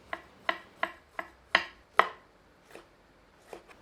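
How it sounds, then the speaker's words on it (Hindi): Two small tomatoes being finely chopped on a board with a knife, about nine distinct close taps in a fairly even rhythm that gradually slows and softens toward the end, with no talking. "2 छोटे आकार के टमाटरों को भी बारीक काट लेते हैं।"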